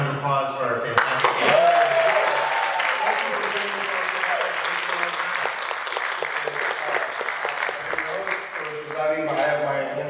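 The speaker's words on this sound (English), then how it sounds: "How about a round of applause for our fantastic" Audience applause at a San Diego Comic Con 2025 panel, a steady wash of clapping filling the whole stretch, loud and sustained from start to finish, with some voices mixed in at the edges.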